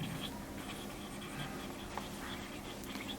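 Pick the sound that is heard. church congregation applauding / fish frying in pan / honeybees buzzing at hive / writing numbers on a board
writing numbers on a board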